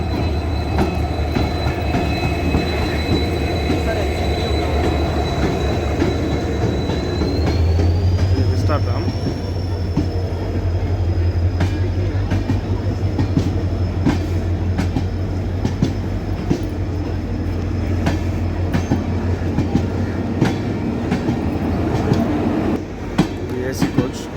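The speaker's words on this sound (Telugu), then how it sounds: "ట్రైన్ వచ్చేసింది" The Yeshwantpur Express (train 16516) rolls into Subrahmanya Road station loud and close, wheels clattering rhythmically and a high squeal of brakes rising then settling, while a crowd talks in the background.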